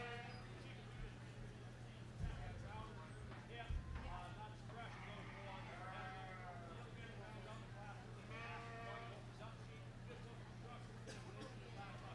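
Sheep bleat at a DeKalb County Fall Fair sheep show, several wavering cries rising over steady crowd murmur, a low hum and someone talking, with a couple of sharp thumps early on.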